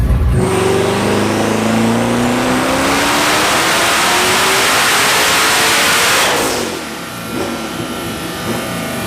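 A turbocharged Dodge Hellcat engine roars through a loud dyno pull, its pitch climbing steadily for about six seconds before it abruptly lets off and idles lower.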